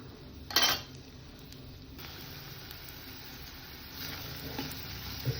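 Asafoetida and turmeric hit hot oil as a tempering for a Surti dana muthiya curry, giving a faint, even sizzle that runs throughout, with a brief metallic clink near the start.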